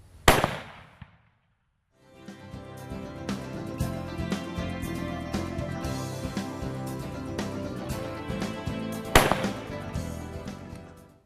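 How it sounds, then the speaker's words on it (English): Rifle shots fired from a front rest and rear sandbag, two sharp loud cracks several seconds apart, with a sustained mechanical rumble filling the gap between them. "Today we're shooting off a front rest and just a rear sandbag."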